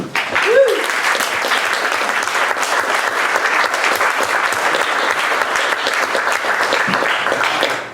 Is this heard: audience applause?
yes